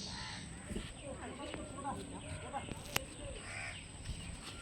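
A crow caws near water where fish are jumping, as it catches a fish; its calls come through a noisy outdoor background with people talking.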